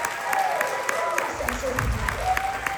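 Audience applause for Lieutenant Governor Jacqueline Coleman at a Fayette County ReOrg gathering, a steady patter of clapping from a crowd under a voice.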